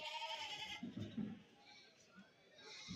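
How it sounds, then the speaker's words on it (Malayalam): Male goats bleat at a goat market, with a couple of short nearby bleats amid faint background chatter and market noise, fairly quiet overall. "നല്ല സൈസ് മുട്ടനാടുകൾ തന്നെയാണ് അവിടെ വാങ്ങി കിട്ടിയിരിക്കുന്നത്"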